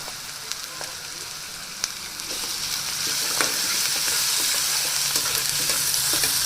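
Curry leaves fry in a pan while cooking capsicum curry, giving a steady, close sizzle that grows louder, with occasional stirring scrapes and no talking.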